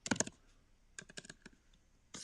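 Keys clatter on a computer keyboard picked up by a live microphone, two quick bursts of rapid typing separated by a short pause, fairly close and clear with no talking.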